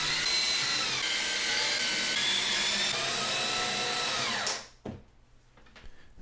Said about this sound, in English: those screws go in